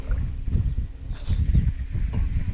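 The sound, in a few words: wind on the water while fishing from a boat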